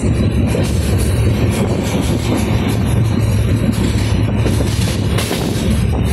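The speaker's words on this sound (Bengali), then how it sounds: "সেই চলন্ত এক্সপ্রেস ট্রেনের থেকে, উত্তরবঙ্গ এক্সপ্রেসের থেকে" The Uttarbanga Express rolls along at speed, heard from on board as a loud, continuous rumble of wheels and carriage noise with faint rhythmic clatter and occasional metallic squeal.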